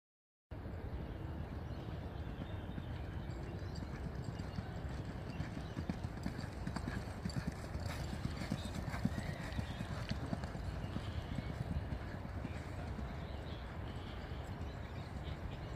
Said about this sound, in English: You'll see the Manhattan Rain colt on the inside working with the Zoustar colt on the outside